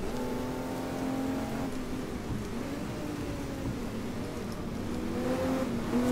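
A race car engine from GT Legends drives flat out on the road to Le Mans, a steady high whine that climbs through the gears with brief shifts, loud and continuous with no talk.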